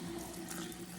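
Tap water runs steadily into a sink while a turkey is washed, a close, even hiss of flowing water with no pauses.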